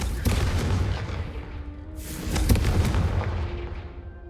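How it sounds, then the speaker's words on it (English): A fiery Confringo blast spell from the Hogwarts Legacy video game bursts with heavy booming impacts, two strong explosive swells over a continuous rumbling roar. "blast travels a bit farther than that of a spell like Incendio"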